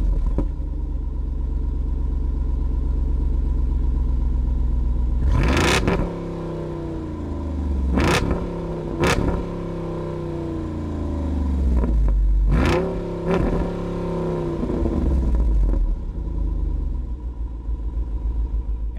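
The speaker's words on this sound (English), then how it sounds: "So let's go ahead and fire it up. You can hear how it sounds real quick." A deep V8 engine in a 2024 Jeep Wrangler Rubicon 392 rumbles at idle, then is revved hard several times in sharp, roaring bursts before settling back to its low burble.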